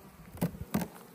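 Honeybees buzz around an opened hive, two short close passes of droning hum rising out of a quiet background.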